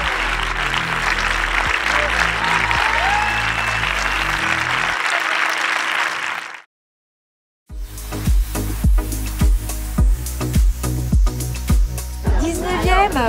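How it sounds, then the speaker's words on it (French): An audience applauds steadily and loudly at an event, the clapping cutting off abruptly into a brief silence before rhythmic music with a strong beat takes over. "C'est eux qu'il faut applaudir parce qu'ils sont très très balèzes."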